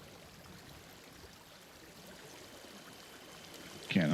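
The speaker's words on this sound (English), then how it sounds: "hear a creek in my ears" Creek water runs steadily in the SnowRunner video game's Wisconsin logging map, a soft continuous trickling wash that stays fairly faint throughout and ends with a brief louder bump.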